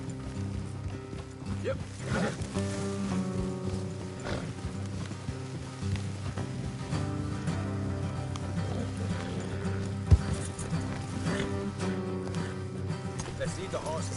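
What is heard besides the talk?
horses' hooves clip-clopping in a video game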